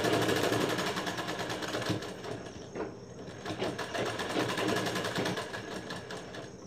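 A sewing machine stitches a one-inch strip onto a blouse, its needle running in a fast, steady, close-up rattle with brief slowdowns between runs.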